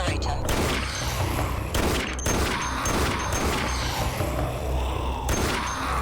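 Gunfire in the sci-fi space-station shooter Dead Effect 2: continuous rapid automatic bursts with crashing impacts and mechanical clatter, loud and dense throughout.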